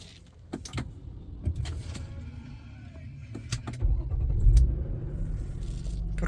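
A father's car in a village starts and its engine settles into a steady idle, a low rumble that swells after a few seconds, with scattered clicks and knocks close by.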